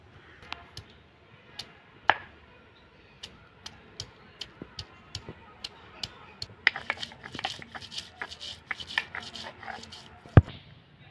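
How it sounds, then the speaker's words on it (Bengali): Garlic and ginger being ground into a paste, heard as a run of sharp, close tapping and pounding knocks that start sparse, then grow quicker and denser toward the end; no voices. "রসুন নিয়েছি, রসুনটা বেটে নেব। আদা নিয়েছি, দুটো একসঙ্গে বেটে নেব।"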